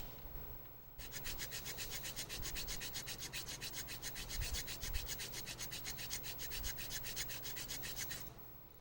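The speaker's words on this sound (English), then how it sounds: "So just kind of filing up and down and back and forth." A file working the notch of a GameCube controller's plastic stick gate, a rapid, even back-and-forth rasping of about two strokes per second, close and continuous for around seven seconds.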